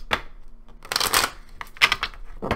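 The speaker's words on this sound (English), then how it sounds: "One more shuffle." A deck of cards being shuffled during a tarot reading, with several bursts of riffling and rapid card flutters spread unevenly across the moment, close and fairly quiet, no talking.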